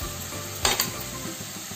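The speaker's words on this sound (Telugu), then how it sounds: "ఇప్పుడు ఈ ముల్లంగి ముక్కలు కూడా వేసేయండి. వేసి బాగా కలపండి." Radish pieces frying in a pan as they are stirred, a constant sizzle with one clear scrape of the spoon against the pan, no voices.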